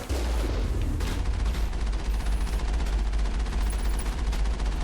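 Sustained rapid gunfire from the Mass Effect video game, loud and continuous bursts with no talking over it.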